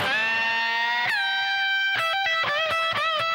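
Overdriven electric guitar plays a full minor pentatonic lick, held notes giving way to a fast sequence of picked and bent notes, loud and unaccompanied.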